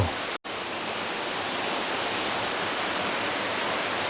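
Small waterfall beside a roadside trail in a Korean valley, a loud, steady rushing roar that fills the whole clip with an unbroken wash of falling water.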